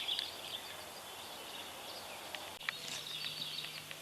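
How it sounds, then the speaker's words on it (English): Faint bird calls, a few brief chirps and tweets, sound over a quiet outdoor background in Central California, with a short break partway through. "I'm hearing birds"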